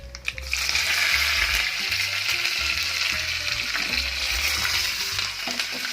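Oil tempering of urad dal and curry leaves for a spicy red chutney fries on a gas stove, giving a loud, steady crackling sizzle that lasts throughout with no talking.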